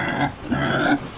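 Pig grunting on a homestead farm on moving day, a few short close grunts of moderate loudness with no talk over them.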